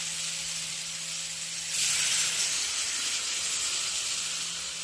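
Water poured onto roasted semolina with vegetables, a brief louder burst of hissing steam rising over a steady background sizzle and low hum, then settling back down; no voices.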